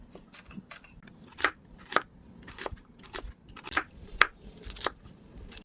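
A knife cuts cucumber into small pieces for Korean-style kimchi: about a dozen crisp, close cuts come in an uneven rhythm against a quiet background.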